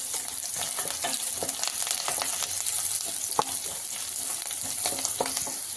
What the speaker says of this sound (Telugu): కొద్దిగా కరివేపాకు వేసుకుందామండి.